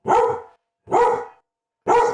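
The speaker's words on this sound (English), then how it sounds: "that's the dogs going off" Dogs barking indoors during a live broadcast, three separate loud, close bark bursts evenly spaced with short silent gaps between them.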